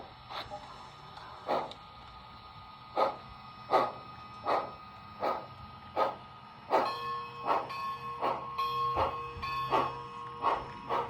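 A model Athearn Genesis steam locomotive chuffs through a Tang Band speaker in an even, regular rhythm of sharp puffs, with a sustained whistle-like tone joining partway through; close and moderately quiet.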